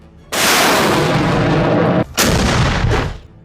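Heavy artillery fire during fighting near Hama in Syria, a loud close roaring blast that runs for almost two seconds, a brief gap, then a second sustained burst that fades out.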